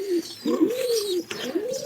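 Pigeons cooing close by in a loft where they are brooding eggs, a few soft, throaty, rolling coos in quick succession.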